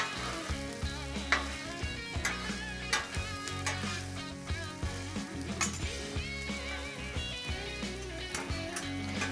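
Potatoes stirred on a Blackstone griddle at medium-high heat sizzle continuously, with a steady run of scraping and tapping strokes from the spatula.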